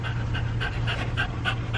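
An excited dog pants steadily and close up, in a quick regular rhythm of breaths over a low background hum.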